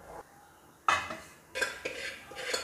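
A metal lid clatters onto a pot of simmering vatha kuzhambu with a sharp clank, followed by a few more scraping, rattling knocks of cookware.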